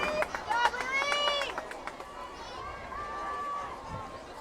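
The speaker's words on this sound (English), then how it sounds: "It's so fun to see such a packed crowd here tonight." Packed sellout crowd at a night softball game in New York, a dense mix of chatter and cheering voices with whistles and shouts near the start, easing into a steadier murmur.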